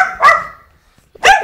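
Two loud, close dog barks separated by about a second of near silence, each a sharp burst; no talking.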